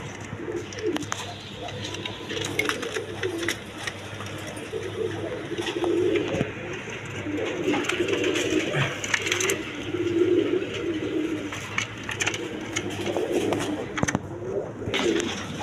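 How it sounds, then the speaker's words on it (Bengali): Domestic pigeons, a pair of Mangal pigeons among several breeds kept for sale, coo softly in a low repeated murmur amid steady background noise and occasional knocks and rustles. "এখানে এক পেয়ার কবুতর মানগাল কবুতর আছে, দেখেন কোয়ালিটি সম্পন্ন কবুতর"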